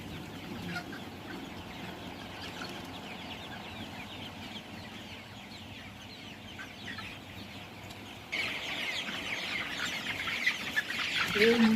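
Many chickens cluck continuously inside a poultry farm housing about 3000 birds, a dense, busy chorus that swells louder near the end as the listener moves closer.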